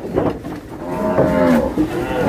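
A Nelore cow moos once in a long, drawn-out call that rises and holds, loud and close, over a noisy outdoor cattle-handling scene.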